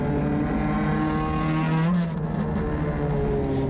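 Mini stock race car on a track at Riverhead, driven in too low a gear, its engine droning loud and steady with a strained pitch that wavers and dips, no voices.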